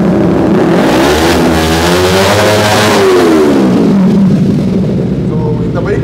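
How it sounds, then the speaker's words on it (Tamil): Kawasaki Z250 twin-cylinder motorcycle fitted with an aftermarket exhaust, revving hard in a loud sweep up and back down that holds close and steady throughout, with voices chattering faintly underneath. "எக்ஸாஸ்ட்லாம் மாற்றி இந்த சவுண்ட்லாம் கேட்கும்போது ஒரு சூப்பர் பைக்குன்னு தான் எல்லாரும் நினைப்பாங்க"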